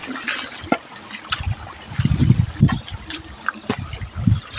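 Water trickling and splashing at a village pond where buffaloes graze, with irregular gurgles and small splashes close by, moderately loud outdoors and no speech over it.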